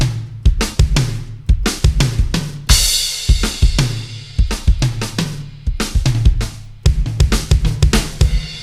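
A punchy Ghanaian highlife instrumental beat from music production software, with steady, repeating drum hits and bass thumps, loud and close, playing alone without any voices.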